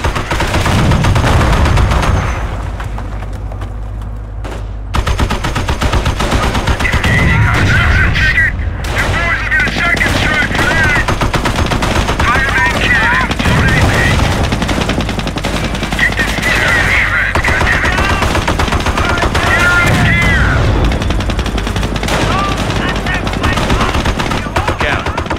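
Machine gun fire and other gunfire sound in a WWII strategy video game, with repeated rapid bursts over a dense, loud battle din that continues throughout, accompanied by scattered in-game voice lines.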